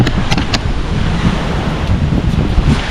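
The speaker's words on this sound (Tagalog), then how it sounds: "Yan yung dagat to." Surf breaks on a white-sand beach at low tide under strong wind, a loud, continuous roar of waves and wind buffeting the microphone, with no voices.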